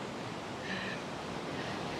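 Ocean waves wash onto a shore in a steady, soft roar of surf, a continuous low-level rush with no clear breaks and no voices.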